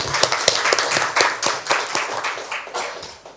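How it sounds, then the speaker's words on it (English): An audience at a geography education conference gives a round of applause for the chairman of Indonesia's geospatial agency, steady brisk clapping from many hands that gradually thins and fades. "Now please join me in once again giving the chairman of Badan Informasi Geospasial a big round of applause."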